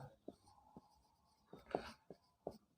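Chalk or marker strokes on a board during a geometry lesson, a handful of short scratchy taps and scrapes spaced irregularly, faint and close, with no talking over them.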